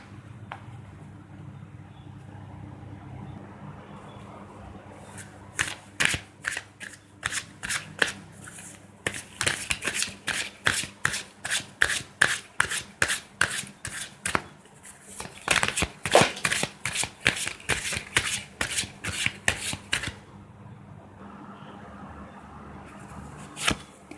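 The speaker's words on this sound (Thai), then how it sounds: "เดี๋ยวเรามาสับไพ่ไปพร้อมๆกันเลยนะคะ" Tarot cards are shuffled by hand in repeated bursts of crisp riffling and flapping, close and clear, with quieter pauses between rounds and no talking.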